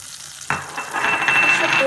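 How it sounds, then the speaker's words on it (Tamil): Salmon pieces drop with a soft splash into a hot pot of simmering fish curry, followed by steady bubbling and sizzling that grows slightly louder, close by. "இப்போ நம்ம வந்து ஃபிஷ்ஷை போட்டுடலாம்."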